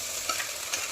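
A mix of potato, carrot, green peas and soybean being stirred in a pan, giving a faint, steady scraping and light sizzle for about a second with no voices.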